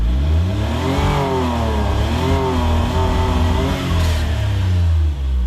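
A cold Suzuki engine runs steadily at high idle, a continuous close-up drone with a low hum and smooth rising and falling harmonics as the speed wavers, with no talk.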